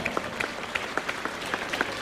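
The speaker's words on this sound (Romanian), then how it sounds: "Aplaudați-i, este momentul de vârf al apariției lor pe scena Cerbului de Aur" Audience at the Cerbul de Aur 2009 song festival applauding the finalists on stage, a continuous crowd clapping with distinct individual claps and a few whistles scattered through it.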